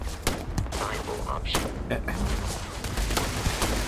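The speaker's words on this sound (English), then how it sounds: "It's because they're shooting at me." Enemy gunfire in the video game Starfield, a rapid fusillade of sharp shots cracking repeatedly over a steady noisy backdrop.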